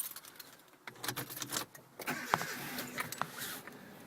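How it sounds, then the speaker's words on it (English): Car keys jangling and an ignition being switched on, quiet metallic clinks and rattles followed by a soft electrical click and a faint hum, heard close inside the vehicle. "So when I switch the ignition on, if I can get my keys and switch the ignition on,"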